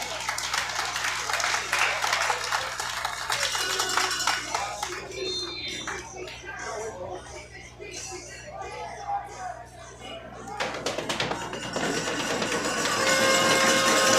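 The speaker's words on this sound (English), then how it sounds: "Please give him a round of applause." A stadium crowd at a Langley Rams football game applauds an injured player, clapping building at the start, fading through the middle and swelling again at the end, with a whistle-like tone and crowd noise mixed in.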